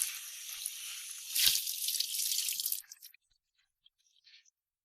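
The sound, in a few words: rinsing a fired ceramic bowl under running water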